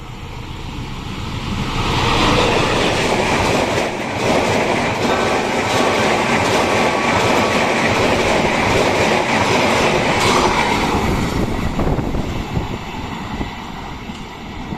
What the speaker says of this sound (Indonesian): Nah, sudah terlihat keretanya.